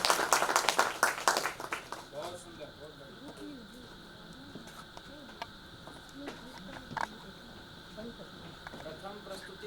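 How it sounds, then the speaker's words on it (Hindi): Audience applause at a literary session of Magadh Mahotsav held at Patna Museum: a short, lively burst of clapping at the start fades quickly, then someone speaks over a quiet hall. "प्रथम प्रस्तुति पर आपकी तालियां बहुत कम है"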